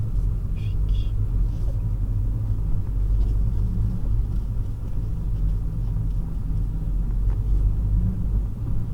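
A Porsche 911 Carrera S running on a race circuit, heard as a deep, constant engine rumble from inside the car, steady and loud throughout.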